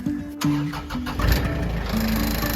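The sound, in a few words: vehicle engine starting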